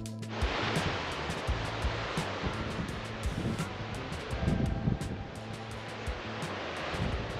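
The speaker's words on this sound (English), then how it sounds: "We're at Membinup Beach" Waves and wind at Membinup Beach in Esperance, a continuous broad roar of surf with gusting wind buffeting the microphone throughout, no voices.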